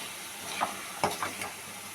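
Carrot halwa with fried cashews in ghee is stirred in a pan, giving a few soft scraping strokes over a faint sizzle.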